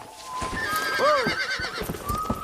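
In the video game Red Dead Redemption, a horse gives a loud whinny near a horse corral over a running clip-clop of hooves, with faint background sounds.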